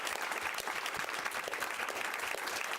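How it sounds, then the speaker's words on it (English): Steady, even applause from an audience at a Sarasota County school board meeting, honouring STRIDE students, continuous and moderately distant throughout. "I'd like you to give them a round of applause"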